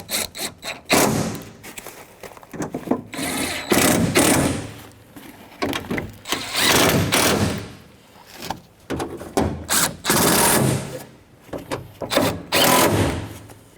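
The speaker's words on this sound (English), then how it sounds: "Get your 8mm socket and we'll tighten these up." Bolts tightened with an 8mm socket wrench inside the door of a 2000-2007 Ford Focus, close rhythmic ratcheting and rubbing strokes in bursts with short pauses, no speech.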